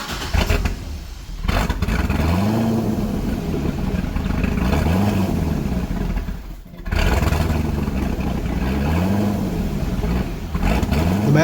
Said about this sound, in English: as the computer tries to idle down to around the stock 650 RPMs, she is not happy